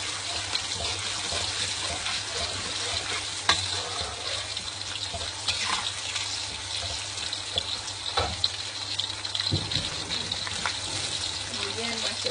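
Ginger, garlic and red chili stir-fried in a wok with a steady, close hiss of sizzling oil and a few sharp clicks of stirring, without any talking.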